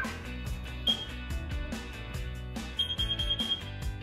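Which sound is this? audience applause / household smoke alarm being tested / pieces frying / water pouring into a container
household smoke alarm being tested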